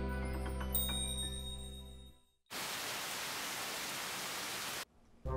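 Steady rain falls outside, a dense even hiss that starts abruptly after a brief tonal passage and holds for a few seconds before cutting off, with no voices over it.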